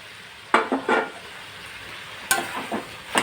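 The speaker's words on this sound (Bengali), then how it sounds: "ভালো করে নাড়িয়ে নেবে, নাড়িয়ে চাড়িয়ে মাখিয়ে নেবে" Mashed potato stirred into a fried spice masala in a pan, heard as two clusters of close, scraping stirring strokes separated by a pause, over a faint sizzle.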